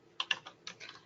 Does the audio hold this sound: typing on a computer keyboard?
yes